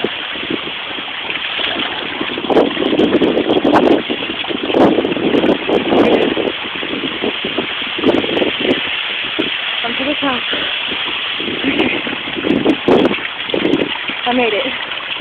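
Steady rushing water from a waterfall on a hiking trail near Tucson, a broad continuous wash, heard with brief talking partway through.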